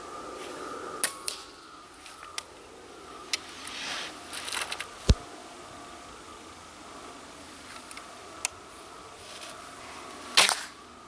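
A few sharp, isolated air rifle shots crack out at irregular intervals during outdoor 25 m benchrest shooting, over faint background hiss, each a brief snap with a quick decay.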